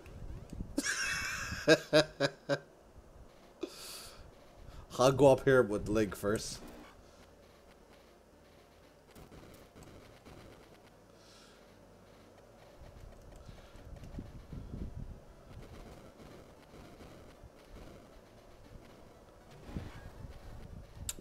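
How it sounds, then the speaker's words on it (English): A horse gallops in the video game Link & Zelda: Panoply of Calatia, with bursts of quick clip-clop hoofbeats early on, then quieter stretches of game sound while a person talks over the action. "Double jumping horse."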